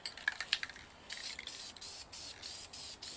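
Satin brown base coat is spray painted onto a gas can in short hissing bursts with brief pauses between them. A few light clicks from the can come first, and the whole thing is fairly quiet.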